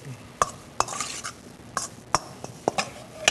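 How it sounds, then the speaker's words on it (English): Smoked Yukon Gold potato salad with society garlic blossoms being gently tossed in a bowl, giving a handful of soft, close clicks and scrapes at irregular intervals over a quiet background. "I'm just going to gently toss this here"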